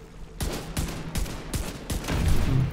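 Pistol gunshots in the video game The Division 2: a run of about five or six sharp, punchy shots fired at an uneven pace, loud and close, with no talking over them.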